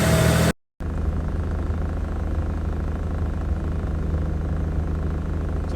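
A Mitsubishi GTO engine idles cold at about 1500 RPM while warming up, a steady, close, low rumbling drone that runs evenly after a short cut at the start.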